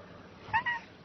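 A short, close cat meow with a rising then falling tone, over a steady low background hum.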